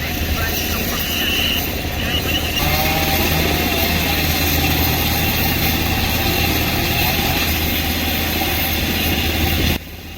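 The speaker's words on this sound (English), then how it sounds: "A helicopter for one stump." A helicopter engine runs during a logging job, a loud continuous droning roar with a steady rotor throb that holds level throughout and drops away at the very end.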